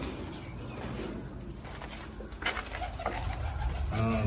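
Pigeons in a nest area near wheat fields in Pakistan, soft low cooing against a steady background hiss, growing a little louder toward the end.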